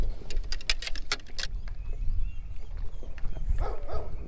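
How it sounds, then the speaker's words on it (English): A dog barks near a fishing spot in a quick burst of several sharp barks at the start, then softer rustling and outdoor noise follow, fairly close. "Dog is literally here every single freaking time."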